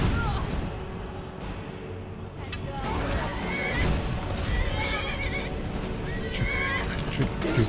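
A horse in the video game Skyrim whinnies several times amid hoof clops and game effects, while someone talks over the action.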